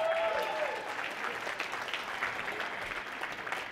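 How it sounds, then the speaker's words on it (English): A round of applause from a seated audience at a management talk, steady clapping from many hands that fades gradually, with a brief voice audible at the start. "How about a round of applause for table 16?"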